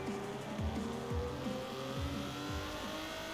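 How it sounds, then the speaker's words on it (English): A rally car spinning its wheels at launch in the Forza Horizon 4 racing game: a repeated rising engine whine climbs through revs several times over steady road noise, with no voices. "Even in second, it wants to spin its wheels."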